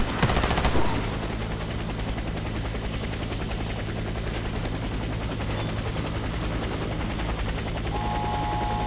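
A helicopter in the video game Warface drones steadily with a low rotor thrum, following an opening burst of rapid gunfire, loud and continuous throughout.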